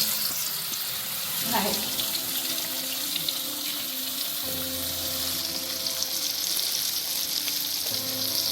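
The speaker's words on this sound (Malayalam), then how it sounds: "മീൻ വറക്കാനായിട്ട് ചട്ടിയിലേക്ക് വെളിച്ചെണ്ണ ആഡ് ചെയ്തിട്ടുണ്ട്" Avoli fish fries in coconut oil in a pan, a steady near sizzle with a few light clinks and scrapes of handling, no voices.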